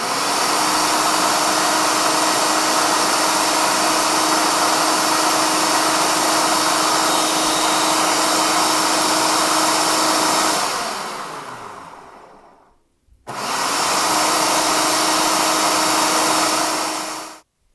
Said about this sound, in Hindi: अभी इसको हमने मज़ीद ग्राइंड करना है